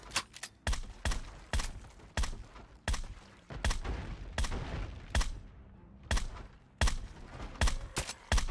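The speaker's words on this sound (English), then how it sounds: "I think I'm shooting zombies below us." Repeated gunfire in a Fallout bunker game map, aimed at zombies: sharp, loud shots in a steady rapid rhythm, roughly two per second, echoing briefly between bursts with no talking.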